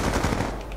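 Rapid automatic gunfire in Call of Duty, a dense, loud burst of rattling shots filling a brief moment.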